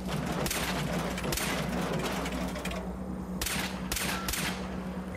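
Gunshots fired at a tripod trap in Fallout 4 crack out in a rapid burst of sharp, loud reports over a continuous low rumbling game background, then several more spaced shots follow.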